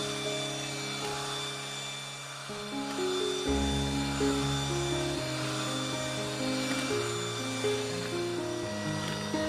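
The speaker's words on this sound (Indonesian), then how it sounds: "Kemudian perlahan-lahan naikkan speed hingga mencapai speed maksimal ya di mixer kalian" An electric mixer beats sponge cake batter, its motor whine rising in steps as the speed is raised toward maximum, a continuous close buzzing hum with no talk.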